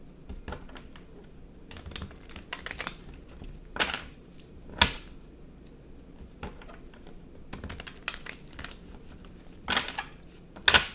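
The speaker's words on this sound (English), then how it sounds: "I'm going to shuffle." Soft, irregular clicks and riffles of tarot cards being shuffled, close and quiet, coming in scattered bursts with brief pauses between.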